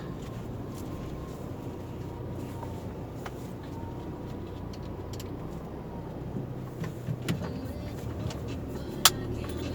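A Proton Persona VVT car moves off inside a petrol station compound, its engine a steady low rumble throughout, with a few faint clicks and brief higher tones near the end.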